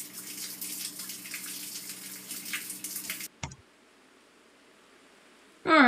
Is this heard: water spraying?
yes